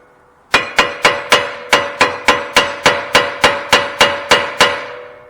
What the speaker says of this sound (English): I'll just tap the corner of the rotor.